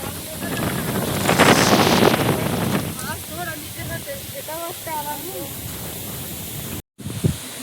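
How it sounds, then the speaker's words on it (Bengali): Strong, gusty wind sweeps across rice fields outdoors in the Sundarbans region, a loud roaring rush for the first few seconds that then eases under a person talking. "ঝোড়ো হাওয়া হচ্ছে"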